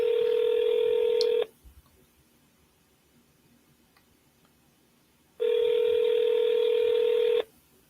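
Touch-tone telephone keypad tones sounding as a call is placed to a seller, heard as two long steady bursts separated by a few seconds of near silence, clear and close.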